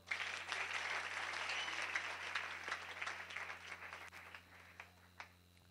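An audience applauds at a church charity event, a dense burst of clapping that fades gradually into a few scattered claps, fairly distant, with a low hum underneath.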